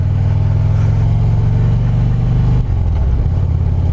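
A motorcycle engine drones steadily and close by, holding a constant low rumble before the pitch drops briefly near the end.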